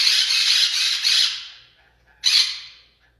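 Loud, harsh parrot squawks nearby: a long raucous burst, a pause, then one more shrill squawk.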